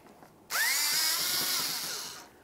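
A power driver with a T30 Torx bit loosens a radiator mounting bolt on a 2011-2018 Volkswagen Jetta, starting with a sudden loud whir that holds steady for nearly two seconds before tapering off.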